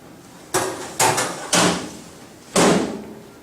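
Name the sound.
closing the front door of Insinger dishwasher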